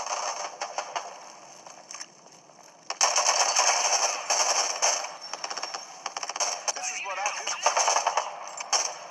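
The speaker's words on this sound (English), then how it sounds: "Someone is shooting." Gunfire in the video game Rogue Company crackles in rapid bursts of shots at moderate distance, growing louder partway through, with mechanical clicks and rattles between volleys.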